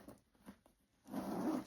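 The outside zipper of a Coach handbag is opened: a few faint scratchy ticks and pauses, then a longer rasping zip pull, soft and close.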